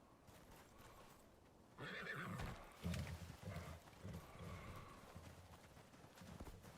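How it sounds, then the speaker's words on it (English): In the survival game Icarus, a zebra gives a loud horse-like neigh and whinny over outdoor ambience, with hoof clip-clops and shuffling continuing afterward. "That forever irritates me that zebras sound like horses here."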